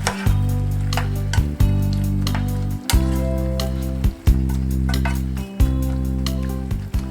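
Peeled frozen shrimp going into a one-pot pasta set off a loud, close sizzle, broken by repeated clinks and scrapes of a utensil against the pot at uneven intervals.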